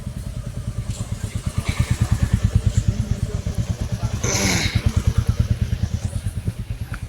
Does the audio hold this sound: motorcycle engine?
yes